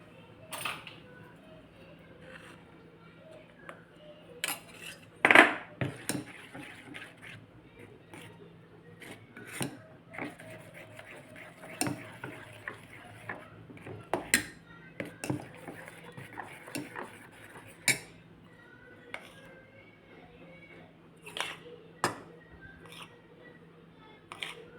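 A spoon works through a mixture in a bowl with scattered clinks and scrapes against the side, a few sharper knocks standing out over a low steady hum, all close and fairly quiet.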